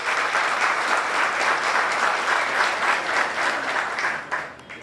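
Sustained, loud applause from an audience welcoming a speaker at an evening history conference held by a municipal political committee, dense and steady throughout before fading at the end.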